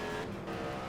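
A race car in the Indianapolis 500 Evolution video game, running the 1964 Trenton 150, accelerates out of a turn with a dense, steady engine roar that stays loud and close for the whole second.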